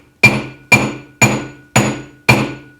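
A hammer strikes a silver ring on a steel mandrel, giving five evenly spaced, ringing metallic blows up close, each with a bright sustained tone.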